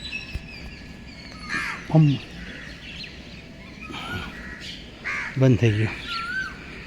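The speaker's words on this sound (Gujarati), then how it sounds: "જો કાગડા પાણી એ પીવો છે" Crows caw in two short harsh bursts, one near the two-second mark and a louder cluster later, with light outdoor background and a person talking briefly in between.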